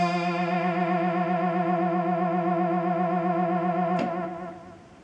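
A Gameduino 2 synth note with vibrato sings as a rich, buzzy sustained tone whose harmonics waver steadily in pitch, a short click near the end before the note fades away.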